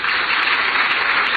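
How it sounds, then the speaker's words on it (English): An audience at a labor gathering applauding a speaker, a steady, dense wash of clapping that stays loud and even throughout. "deserves a round of applause"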